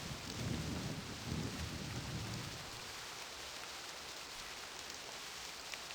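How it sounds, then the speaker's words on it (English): Video game rain and thunder: steady rain pours down with a deep rumble of thunder rolling through the first half, then fading to constant rainfall. "You go to sleep to rain and thunder every night."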